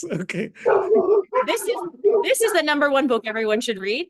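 Dogs bark and yip in the background during an interview, their short bursts and whimpers mixed under steady close conversation.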